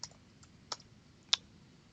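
Three sparse, crisp key clicks on a computer keyboard, close and quiet, spaced out over a near-silent background.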